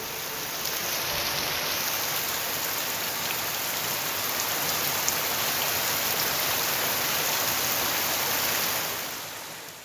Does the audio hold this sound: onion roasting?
no